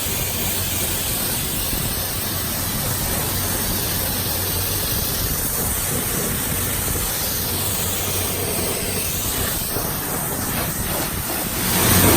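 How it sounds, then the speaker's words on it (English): Steady broadband hiss of water spraying close by onto an engine bay after off-roading, continuous throughout, with no voices. "This is how I spray down my engine."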